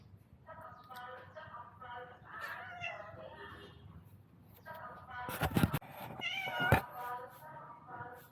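A visiting male kitten meows repeatedly in short, strained, oddly pitched calls, fairly close, with a person talking intermittently around the cries and a couple of sharp clattering knocks partway through.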